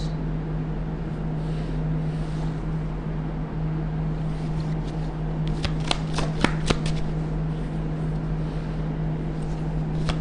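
Tarot cards being shuffled by hand: a low steady hum runs throughout, then a cluster of sharp, rapid riffling flicks bursts out near the middle, close and fairly quiet, with no speech.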